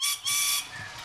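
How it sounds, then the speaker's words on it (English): A toy train in the video game Among the Sleep gives two short, bright whistle toots followed by a softer tone and faint rolling noise. "It is a train. Does it run?"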